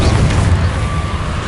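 The Incendio fire spell goes off in the video game Hogwarts Legacy as a loud, low, rumbling boom that holds steady for about a second and a half.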